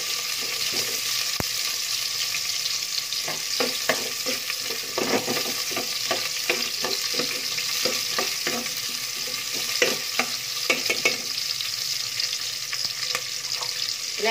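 Garlic and onion frying in a pan for pansit bihon, a steady close sizzle with scattered crackles and stirring scrapes throughout, no talking.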